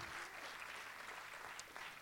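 Theatre audience applauding after a performance, heard as a faint, continuous wash of dense clapping.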